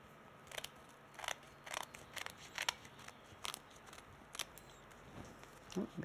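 Scissors trimming card stock for a handmade split channel card, a series of soft, close snips at an uneven steady pace over a quiet room background.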